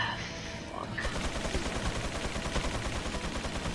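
Gunners open fire in Resident Evil 4, a rapid, continuous burst of automatic gunfire close and loud that starts about a second in and rattles on without a break to the end.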